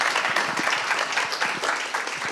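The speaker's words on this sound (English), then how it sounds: "Kaziwa, Ilana, and Danai, they also deserve a very warm applause." A conference audience at a feminist congress applauds warmly, a dense, steady patter of many hands clapping close by, with no pauses throughout.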